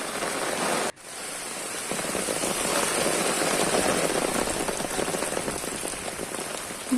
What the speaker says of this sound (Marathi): भरपूर पाऊस आहे लागलेला आणि बघा किती पाऊस आहे